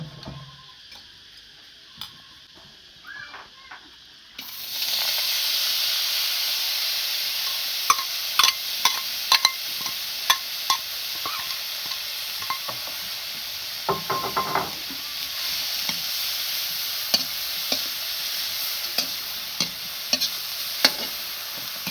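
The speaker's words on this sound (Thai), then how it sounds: "เอาคั่วเนี่ยเขาจะบ่ได้ใส่น้ำมันถ้าว่าเขาใส่น้ำมันมันจะบ่แห้งง่ายเอาคั่วแบบนี้มันแห้งง่ายแห้งดี" Food being dry-roasted in a pan with no oil: after a quiet opening, a steady hiss sets in, broken by repeated light scraping and tapping stirring strokes.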